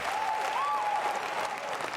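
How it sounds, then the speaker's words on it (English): A short burst of E3 2019 audience applause, dense clapping from a crowd that holds steady and stays fairly loud throughout. "Yeah, stand up and clap."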